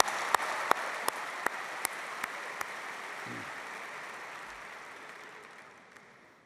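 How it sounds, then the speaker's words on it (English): A large crowd applauds at a political conference hall, a broad wash of clapping with a few sharp, regular loud claps near the front, gradually fading out toward the end. "Let's give yourselves a big round of applause"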